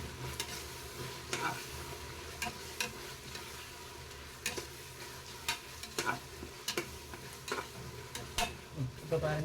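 Green chillies and mint sautéing in a pan for chicken biryani, a soft steady sizzle under repeated stirring scrapes and light clinks of a spoon against the vessel, close and fairly quiet, no voices.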